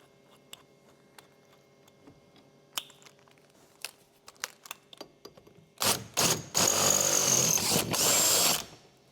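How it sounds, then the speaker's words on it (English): Scattered ticks and clicks, then a loud power drill whirs in two long bursts, grinding steadily near the end, drilling a center hole out to 9mm in metal on a rear quarter window of a Golf Mk4 R32. "I just need to drill the center hole out to a 9mm."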